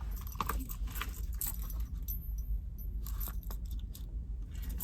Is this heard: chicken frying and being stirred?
no